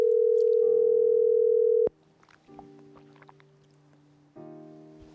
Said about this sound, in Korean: 먼저 전화를 연결해